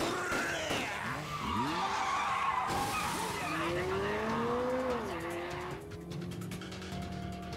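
A car skidding to a stop in the Yakuza video game, loud tire squeals sweeping up and down over engine roar, a long screech fading near the end, close and alone.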